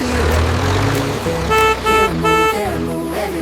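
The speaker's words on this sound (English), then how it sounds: "Honk!" Three short, loud tractor horn toots in a quick rhythm sound over a rumbling engine, close by, on a farm.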